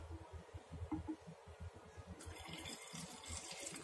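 Water being poured into a bottle along with rose water for a facial toner, a soft continuous trickle and gurgle at low volume with a faint hum beneath.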